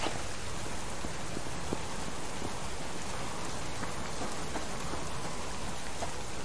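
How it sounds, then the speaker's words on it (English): Steady rain in the survival video game Subsistence, a continuous close hiss of drops falling on surfaces throughout, with no voices. "we have had a rainy day"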